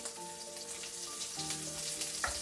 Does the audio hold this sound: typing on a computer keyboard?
no